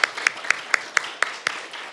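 An audience at a music therapy event at South Texas College claps in a quick, steady rhythm of crisp beats over a light wash of room noise, with no speech.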